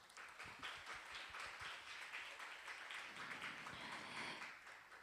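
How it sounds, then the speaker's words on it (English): Applause from an audience closing a conference session at a security forum: steady, moderately faint clapping of many hands lasting the whole stretch, with a light murmur beneath. "let's give them another big round of applause"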